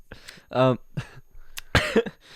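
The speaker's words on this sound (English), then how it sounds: "Why do we both cough?" Two or three short, close coughs, one sharp and loud, mixed with brief throat sounds and a bit of speech.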